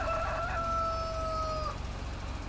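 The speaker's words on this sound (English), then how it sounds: "Excuse me, rooster." A rooster in the Farming Simulator 2013 video game, on the Landwehrkanal map, gives one loud, clear crow lasting under two seconds over a steady low mechanical hum.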